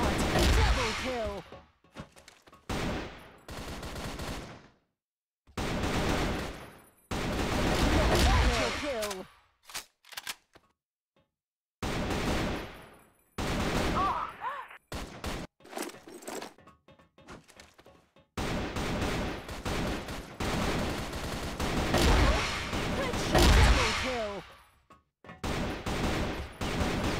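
Gunfire in a multiplayer shooter video game comes in repeated loud bursts and rapid volleys, broken by short silent gaps, for nearly half a minute.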